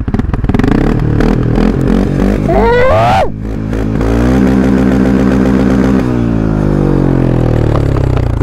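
A quad bike engine revs hard close by, rising and dropping in pitch, then settling into a throaty rumble with rattling.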